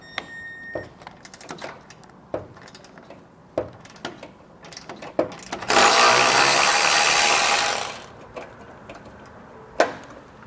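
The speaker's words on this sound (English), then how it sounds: "We'll use an 18mm socket to remove the fasteners." Hand ratchet or impact wrench with an 18mm socket removing trailer hitch fasteners on a 2011 Ford F-350: scattered clicks and taps, then about two seconds of loud continuous whirring, with a sharp click near the end.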